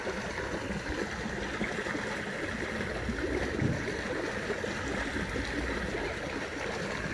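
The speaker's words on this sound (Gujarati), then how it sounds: "પાણી ચાલુ છે, ખેતરમાં જાય છે" Irrigation water runs steadily from an open channel into a castor field on a village farm, making a continuous, moderately quiet rushing and gurgling with no voices.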